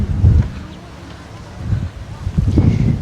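Strong wind buffets the microphone aboard a boat on a ride to Dingalan, Aurora, in low gusty rumbles that surge at the start and end, under people talking.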